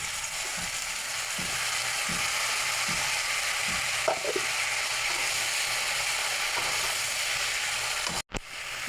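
Taro stolons and tomato fry in a pan with onion and ground cumin, ginger and green chilli pastes, giving a steady close sizzle broken by the regular clicks and scrapes of stirring.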